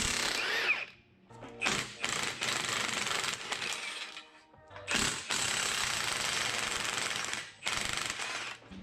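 A 1/2 inch high-torque impact wrench hammers off exhaust manifold bolts on a BMW E90 N52, in several loud close bursts of rapid rattling with short pauses and clinks between them.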